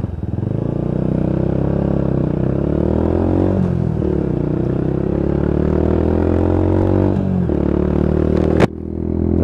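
A Lexmoto Tempest motorcycle cruises along a dual carriageway, its engine drone steady and loud throughout with wind rush, small pitch shifts near four and seven seconds, and a brief clunk near the end.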